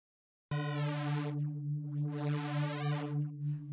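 Vital software synth with its inharmonic stretch warp: after a moment of silence, a sustained low-pitched tone starts suddenly, its upper partials sweeping in and out, giving a metallic, slightly clangy wobble.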